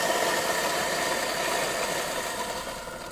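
A Bonmac 400 coffee grinder's steady, loud motor whir with a gritty grinding texture as it grinds beans, running continuously without pause, close up and fairly even in level.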